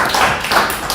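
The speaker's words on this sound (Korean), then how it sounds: "박수로 환영하겠습니다" A church congregation bursts into dense applause to welcome a family, with many hands clapping close and steadily throughout.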